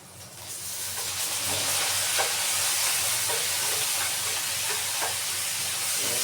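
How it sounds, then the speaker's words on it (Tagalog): Garlic and onion dropped into hot oil for a mung bean dish: the sizzle swells quickly and then holds as a loud, even hiss, with a few faint stirring taps beneath it and no voices. "Tapos ang ating bawang sibuyas, ito na ilalagay natin."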